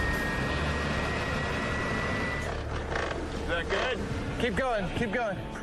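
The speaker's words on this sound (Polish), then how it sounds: "strumień gazów z silnika odrzutowego rzeczywiście może przewrócić taksówkę" A loud, steady roar of jet engine exhaust blasting continuously at a taxi car, with rattling and clanking underneath and a few harsh squealing sweeps near the end.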